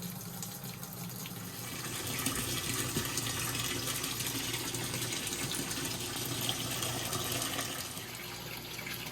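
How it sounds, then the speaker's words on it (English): A top-loading washing machine fills with hot water, a steady rushing gush of water pouring into the drum, continuous and fairly even, swelling slightly after the first couple of seconds and easing near the end. "I'm just gonna let this fill up a little bit, probably about halfway"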